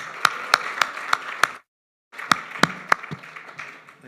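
Applause for a mayor at a Bondi chamber of commerce event: a few sharp, evenly spaced claps, then a short silence, then more spaced claps that trail off, sounding like a small, sparse group nearby.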